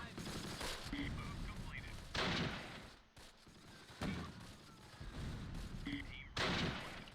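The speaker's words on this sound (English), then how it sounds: "The mortars are just not super effective right now." Mortar and small-arms fire in the World War II strategy game Close Combat Last Stand Arnhem: several heavy bursts of explosions and crackling shots, each rising sharply then fading, repeating in waves at uneven intervals.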